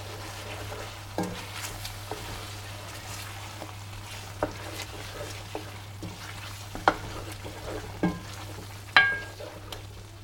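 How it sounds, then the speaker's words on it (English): Cream is stirred into a butter chicken gravy simmering in a pan, a soft bubbling sizzle under a low steady hum, broken by occasional scraping strokes of a spoon, with no voices. "So I'm going to add, as you can see, it's just less than 200 ml I'm adding to this. I'm going to give that a good mix."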